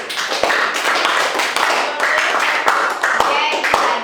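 A classroom of students claps their hands together, loud, dense and close, sustained without a break with a few sharper individual claps standing out.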